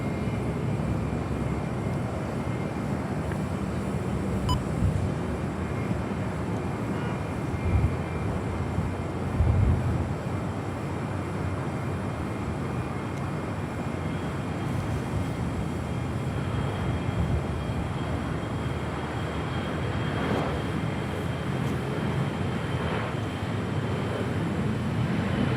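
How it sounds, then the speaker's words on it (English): A Korean Air Cargo Boeing 777 departs LAX bound for Tokyo Narita, its jet engines a broad, steady roar that holds for the whole stretch with slight swells, distant but loud, no talk over it. "we do have that Korean Air Cargo 777 heading back to Tokyo Narita"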